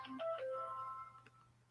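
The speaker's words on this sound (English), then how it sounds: "Look, people calling my phone." A phone ringtone plays a short melodic tune of a few bright tones, fairly quiet and alone with a low hum beneath, trailing off after about a second.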